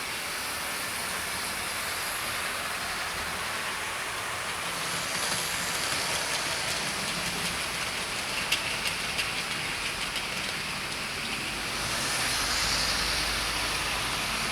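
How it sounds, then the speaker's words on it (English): A model Deltic diesel locomotive runs on a home layout, giving a steady whirring rumble and hiss of wheels on track that swells slightly as it passes close, with no voices over it. "Just waiting on the Deltic coming out from underneath the bookcase."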